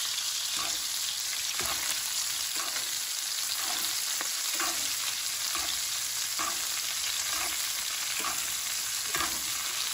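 A T-bone steak sizzles in butter with garlic and thyme in a cast iron pan, a constant loud hiss and crackle with a regular scraping rhythm from spooning the butter over the meat.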